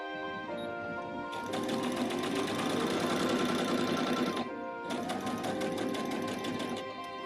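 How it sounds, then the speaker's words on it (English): A Brother sewing machine stitching French seams in fabric, a fast steady mechanical whirr heard close up, running in two bursts with a short pause between them. "sew the French seams by pinning the fabric right sides together and sewing the remaining ½ inches seam allowance"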